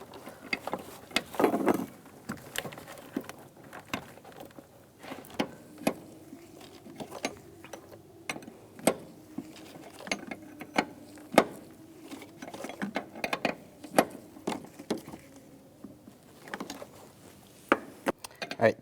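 Small metallic clicks and taps of a wrench working a brake line fitting on a 2002-2009 Chevy Trailblazer, irregular close-up ratcheting ticks against a quiet garage background.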